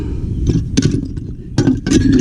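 Small drinking glasses clink and knock together as they are handled among scrap and junk in a dumpster, in a few short, close, bright bursts over a low rumbling background.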